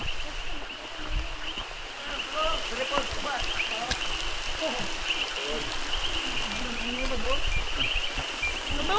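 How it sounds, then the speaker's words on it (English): A heavy downpour drums steadily at Lake Naili campsite on Mt. Talinis, a dense, unbroken hiss of rain with a thin high insect-like whine and faint voices now and then. "with the heavy downpour."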